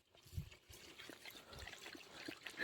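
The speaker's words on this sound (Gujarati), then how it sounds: "પાણી નાખ્યું ને તો શાંતિ થઈ" Water poured out in a steady trickle and splash, fairly faint and close, with no talk over it.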